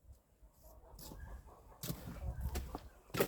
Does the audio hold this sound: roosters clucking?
yes